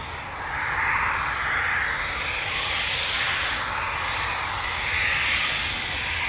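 A Eurofighter Typhoon jet taxis at RAF Coningsby, its engines giving a loud, steady roaring whine that swells and eases slightly throughout, close by and alone.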